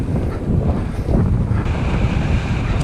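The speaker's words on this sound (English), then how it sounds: "Going back into the wind again at the moment." Steady, loud wind roars and buffets against the microphone of a cyclist riding into a headwind on a hilly 200 km audax ride, a dense continuous rumble with no voice.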